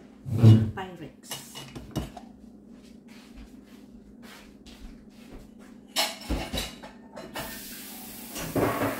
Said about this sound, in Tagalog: So alisin ko muna itong mga hugasan